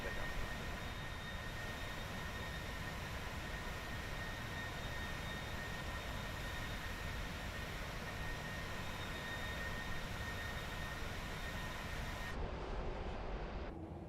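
A PMDG 737-800 Freighter jet taking off in a flight simulator, heard as a steady, loud broadband engine roar with faint high whines that runs unbroken for the whole stretch and thins out abruptly near the end.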